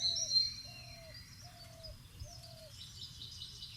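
A small tailorbird gives repeated short, thin calls near its nest outdoors, a series of four evenly spaced notes over faint high chirps and low background rumble.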